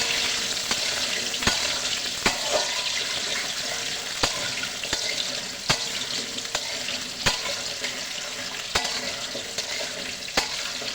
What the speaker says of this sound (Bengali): তেল গরম হয়ে গেছে, ভাজার জন্য আলু দিয়ে দিলাম।